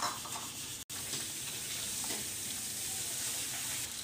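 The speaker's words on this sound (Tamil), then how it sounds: "இதை நல்லா மிக்ஸ் பண்ணிவிட்டு கொஞ்சம் நேரம் வேக வச்சா போதும்" Cut boiled eggs frying in masala for egg chukka, a steady low sizzle with occasional stirring scrapes, close and quiet, broken by one brief dropout near the start.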